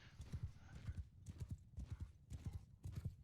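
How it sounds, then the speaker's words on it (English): Horse hooves clip-clop in a steady galloping rhythm in the video game Mount & Blade Bannerlord, repeated clusters of thuds over a faint background. "Horse, advance! Horse, follow me!"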